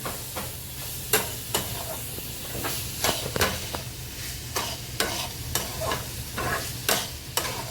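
Spices and salt are stirred into a sizzling pan for masala pav. A ladle scrapes and taps against the metal in regular sharp strokes over a constant frying hiss, close and fairly loud.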